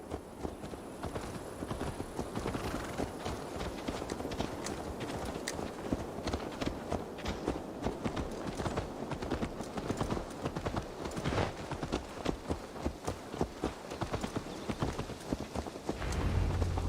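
Horse hooves clip-clop steadily and quickly in the video game Assassin's Creed Valhalla, a dense, close rhythmic clatter over background ambience, continuing throughout with faint voices now and then.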